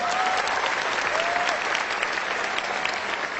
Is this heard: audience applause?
yes